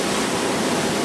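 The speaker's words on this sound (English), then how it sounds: "Here we are at the next rapid called the Fluffy Bunny," Whitewater roaring through a rapid on the Kern River, a dense, steady broadband rush of churning water that fills the short stretch at close range with no voices.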